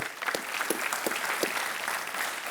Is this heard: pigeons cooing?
no